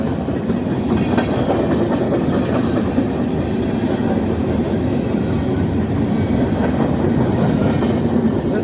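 A long freight train rolls past nearby, its cars rumbling loudly with rhythmic clickety-clack from the wheels over the rail joints, a continuous and heavy sound.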